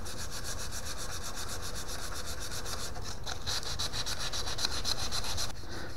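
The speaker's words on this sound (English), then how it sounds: "I'm starting with 120 grit, and I am going to sand this entirely with the grain" Rapid, rhythmic scratchy rubbing of 120 grit sandpaper back and forth along the grain of a bubinga wood pen, continuous and close, with quick even strokes throughout.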